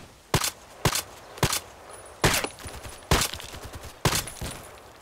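A silenced EBR marksman rifle in the Contract Wars video game fires seven sharp, fairly loud semi-automatic shots at uneven intervals of about a second, each a crisp crack with a short tail.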